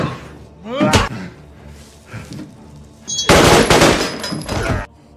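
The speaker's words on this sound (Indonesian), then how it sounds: "Manny muncul dan menembak kanibal itu hingga tewas." Gunfire in an action-film scene comes as loud, punchy bursts and a sustained volley among thuds and slam-like effects, filling most of the stretch with little dialogue.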